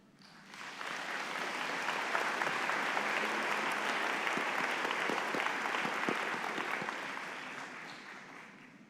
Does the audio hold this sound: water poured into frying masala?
no